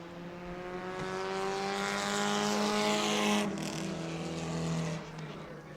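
Bomber A class race cars roar steadily around New Smyrna Speedway, a loud sustained engine drone that rises and then fades slightly as cars pass, with no talking.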